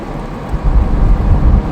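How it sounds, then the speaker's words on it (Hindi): Rain with low thunder-like rumble during a road journey from Valsad to Surat, a heavy broadband wash that swells louder after the first half second and stays dense and close throughout. "बूंदाबांदी फिर से शुरू हो गई है"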